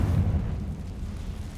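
Confringo blasting spell explosion in Hogwarts Legacy, a deep, rumbling boom that hits at once and rolls off over a second and a half, heavy in the low end and heard alone.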